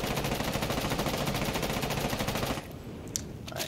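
Rapid automatic fire from Ying's gun fitted with an angle grip in Rainbow Six Siege, a fast even burst of shots for about two and a half seconds, then stopping with a few faint clicks after.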